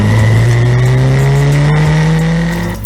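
An F4 single-seater race car screams at full throttle on a night street circuit in Chennai, its engine note rising steadily through the gear, loud and close, with faint tire noise underneath.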